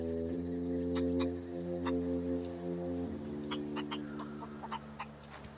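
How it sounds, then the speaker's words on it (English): A chicken clucks in short scattered bursts in the video game The Outer Worlds, near and clear over a sustained droning music chord that shifts partway through. "Is that just a normal chicken?"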